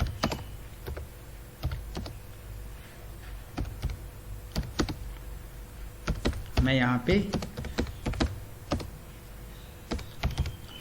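Keys clatter on a computer keyboard in scattered bursts while an address is typed into an online form, with someone speaking Hindi over it and a low steady hum underneath.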